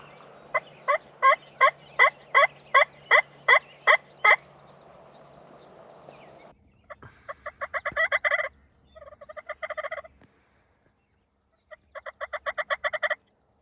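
Wild turkey on a spring hunt in Mauricie, Quebec: a rapid train of a dozen evenly spaced sharp notes, then several rattling gobble bursts in separate groups, loud and fairly close against quiet woods.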